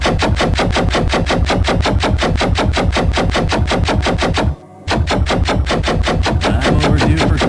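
Rapid automatic gunfire blasting at targets on a firing range in Half-Life: Gunman Chronicles, a loud continuous stream of evenly spaced shots with one brief pause near the end.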